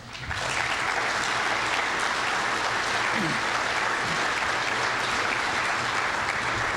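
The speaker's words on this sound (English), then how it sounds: "Everybody give them a round of applause." A large conference audience at Black Hat USA 1999 breaks into dense, sustained applause that starts abruptly and holds steady at full volume.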